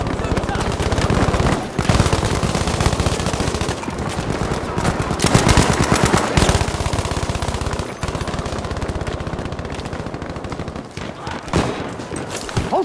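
Machine gun fire in the video game Battlefield V, loud sustained automatic bursts with brief gaps and other gunfire mixed in, dense and close throughout.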